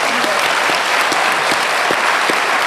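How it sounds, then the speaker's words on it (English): Loud, steady applause from a live studio audience at a televised Q&A panel broadcast in Werribee, a thick continuous roar of clapping with a few sharper claps cutting through near the microphones. "You can quickly give yourself another big round of applause."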